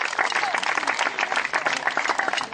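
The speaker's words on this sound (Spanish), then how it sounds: "Fuerte el aplauso." A crowd at a summer school camp gathering claps loudly in a dense, continuous burst of applause, close and lively with some voices mixed in.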